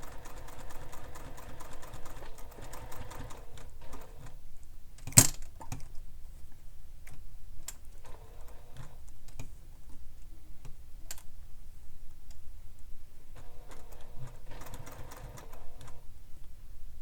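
A sewing machine stitches a bag together in short bursts of fast, rhythmic ticking, separated by quiet pauses and a single sharp click near the middle.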